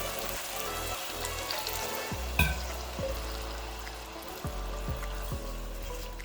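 A spicy eggplant stir-fry in the style of P.F. Chang's sizzles and crackles steadily in a hot pan, loud and close, with a brief clatter partway through and a continuous frying hiss with no talking.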